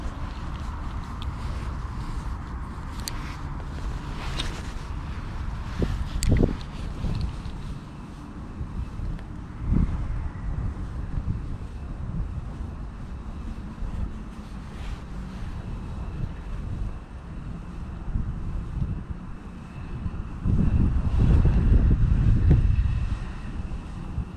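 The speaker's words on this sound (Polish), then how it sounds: "trochę wiatr jest taki mocno nieprzyjemny dzisiaj" Gusty wind buffeting the microphone while spin fishing for chub, rising and falling in bursts over a constant rushing background, strongest toward the end.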